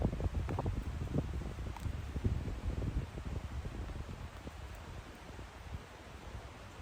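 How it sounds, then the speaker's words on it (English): Wind blowing outdoors on the Appalachian Trail near water, a steady broadband rush with low buffeting rumble against the microphone, gusting harder at first then easing, no talking. "The wind's blowing."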